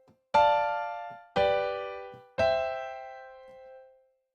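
Three piano chords forming a jazz ii-V-I progression, struck one after another at an even pace, each ringing out and fading, played alone in a quiet room.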